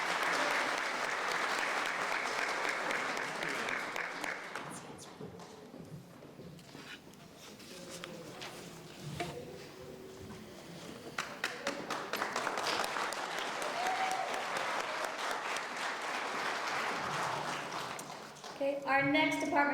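Sustained crowd applause at a graduation award ceremony for the Class of 2024, loud and steady, dipping midway before swelling again, with scattered claps and murmuring voices underneath.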